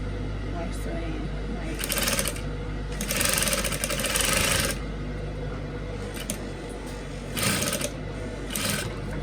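A home sewing machine runs in short bursts of rapid stitching through fabric, close and fairly loud, over a constant low hum, with quiet talking in the gaps.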